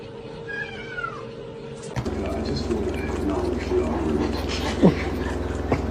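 A kitten meows in short, high cries, close by, while a person talks and mimics a meow; a brief rustle and thump come before the cries.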